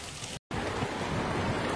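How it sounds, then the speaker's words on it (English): Steady rain falling during a lightning storm, a dense broadband hiss of drops on surfaces, with a brief dropout near the start. "Well, it's raining on me."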